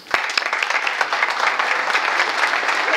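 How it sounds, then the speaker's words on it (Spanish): Audience applause at a university and AITEX presentation of the SEAT Challenge, a full, even clatter of many hands with a few sharp claps standing out at the start, steady and close throughout. "Un aplauso."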